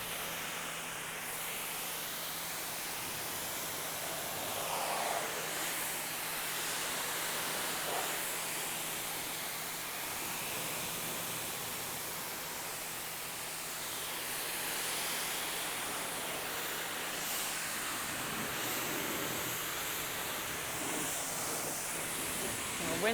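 Water sprays steadily from a hose to rinse a car during a wash, a broad continuous hiss with slight surges that runs through the whole stretch.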